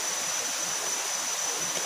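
Rushing river water in wild forest at Sungai Buan, Batuan area, Mahakam Ulu, a steady broadband wash with no pauses and no voices.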